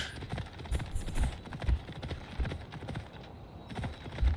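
Horse hooves clip-clop at a steady gallop in the Assassin's Creed Odyssey video game, a rhythmic run of close, evenly spaced thuds continuing throughout.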